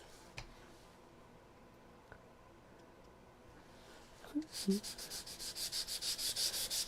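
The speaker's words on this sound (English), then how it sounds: "So I'm just sanding that lightly, just to wear those." Soft rhythmic rubbing of sandpaper lightly on small wooden pieces, quiet at first, then growing into a steady back-and-forth scratching pattern, close up.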